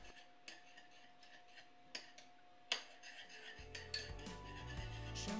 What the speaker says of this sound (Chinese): 现在首先把酱油和蚝油混合在一起